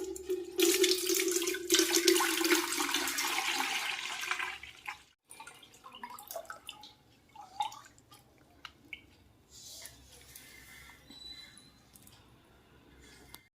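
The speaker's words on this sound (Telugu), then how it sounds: "దీన్ని వడకొట్టేసుకుందామండి ఈ జున్ను పాలని" Cow colostrum milk being strained, a loud pouring, trickling liquid rush for the first few seconds, then softer drips, clinks and splashes of a utensil.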